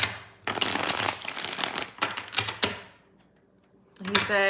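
A deck of tarot cards is riffled and shuffled in several quick bursts of papery flutter and snapping, close by, with brief pauses and a soft tap near the end.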